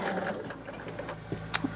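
A sewing machine stitches quilting fabric strips together, its needle running in a steady, close mechanical whir with a few sharper clicks near the end.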